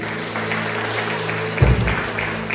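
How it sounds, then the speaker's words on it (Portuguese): Applause from a church congregation during a Pentecostal-style service, a steady broadband wash of clapping that swells louder near the end over a low sustained organ or keyboard tone. "Aplaudam Cristo."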